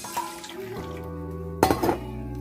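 Whey water strained from homemade cheese is poured into a metal vessel, making a short liquid splash and trickle with a clink of the pot, brief and close.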